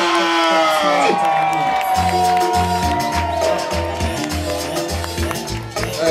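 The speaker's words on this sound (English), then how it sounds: "Put your hands together for my brother, Basket Man!" Loud live crowd cheering, whooping and clapping continuously as a comedian is introduced on stage at a stand-up comedy show in Uganda, with a big sustained roar throughout.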